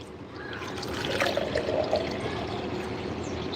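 Water poured into a mixing cup in a garden, being readied for mixing fertilizer, giving a steady close trickle and splash that swells briefly in the middle and continues without speech.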